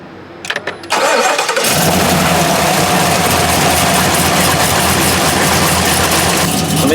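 A truck engine cranks briefly after a flex fuel install, then catches and roars up loudly. It settles into a steady, rumbling idle close by.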